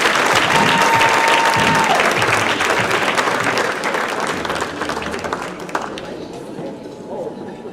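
A gala crowd at the Peekskill NAACP Freedom Fund Gala applauds an honoree with sustained, dense clapping that gradually thins and fades toward the end.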